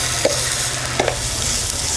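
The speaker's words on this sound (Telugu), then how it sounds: "ఇప్పుడు మనం బీరకాయ పొట్టుని ఇప్పుడు వేపుకోవాలి పచ్చడి నూరుకోవడానికి కదా." Ridge gourd peel fries in about two spoonfuls of oil in a pan, a steady close sizzle broken by a couple of quick scraping stirs.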